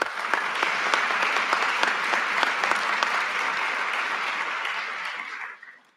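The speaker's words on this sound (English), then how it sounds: "Let's give him another round of applause." Sustained audience applause at a Louisville Metro Police Department promotion ceremony, dense and even with a few sharper individual claps, fading out near the end.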